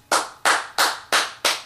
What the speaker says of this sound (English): I perfected what I called the Conan clap, where I like cupped my hands like this